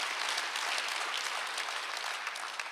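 A church congregation at a Korean Sunday worship service applauds in a steady, even wash of clapping that lasts a few seconds, moderately distant and without talk.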